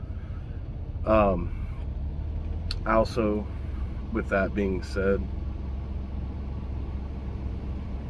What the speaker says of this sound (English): Sorry about the noise. My truck's starting up.